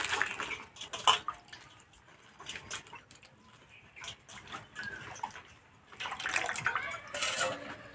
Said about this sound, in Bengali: এবার পরিষ্কার করে ধুয়ে নেব।